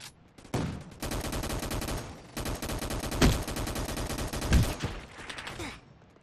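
Rapid bursts of gunfire from a sniper rifle in the Roblox game Arsenal, dense and continuous for several seconds with a couple of heavier shots standing out, loud and close, with no talk.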